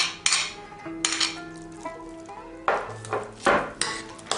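Kiwi folded into cake batter in a bowl for a fruit cream cake, with intermittent scraping and clinking of a utensil against the bowl in short bursts, close and fairly quiet.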